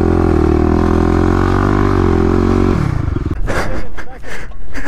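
A stock 35 hp Kawasaki KLX351 dirt bike stuck on a sand dune, its engine holding a loud, steady low drone, then dropping and sputtering as it bogs down, with people talking over it near the end.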